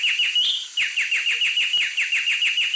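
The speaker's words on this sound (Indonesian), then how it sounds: "Anis Sulawesi, memiliki nama ilmiah Chataponera turdoides. Adalah spesies burung dalam famili Turdidae." Sulawesi thrush (Cataponera turdoides) singing a rapid series of repeated high, sweeping whistled notes in a steady rhythm, clear and close with no talk.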